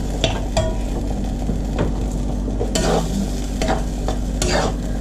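Sauce for a vegetable shahi korma is stirred in a pot, a spoon scraping and clinking against the sides in repeated strokes over a steady low sizzle, close and fairly loud, with no talking.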